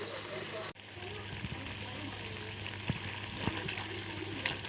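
Meat fat melting down in a pan to make butter gives a steady, soft sizzling hiss with a few small pops, under a voice talking.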